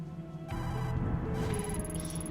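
A telephone rings repeatedly in the video game Tokyo Dark, a bright electronic trill pulsing in short bursts over a low ambient game backdrop.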